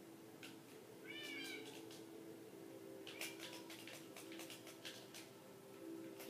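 Video game cat meows a few times in short rising calls amid faint game ambience, with sparse ticking and clicking effects scattered through the rest.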